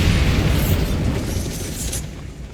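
A Bombarda blasting spell cast in Hogwarts Legacy makes a loud, dense explosion with a deep rumbling roar that holds steady through the whole moment and fades slightly at the end.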